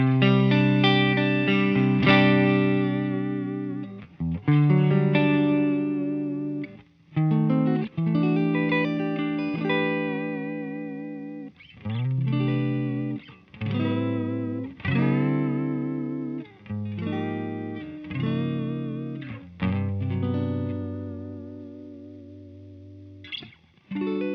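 An electric guitar driven through a JHS NOTADÜMBLË overdrive pedal plays a string of loud, warmly distorted chords and short melodic runs with vibrato. Brief pauses fall between phrases.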